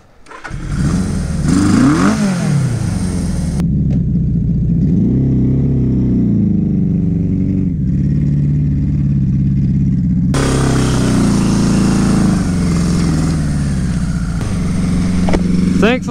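A Suzuki GS850 Scrambler motorcycle rumbles loud and close while riding in snow, its engine revving and settling through shifts, with a steady rushing drone behind it.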